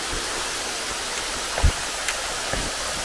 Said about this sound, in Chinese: 很美的瀑布。